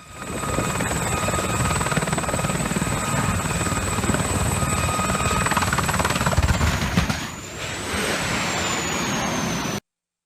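Loud, close helicopter rotor noise throbs continuously with a whining turbine, the pitch shifting slightly before cutting off abruptly.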